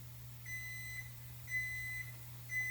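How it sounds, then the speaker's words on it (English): A kitchen timer sounds three evenly spaced electronic beeps, each a sustained high tone about half a second long, faint over a steady low hum. "Timer."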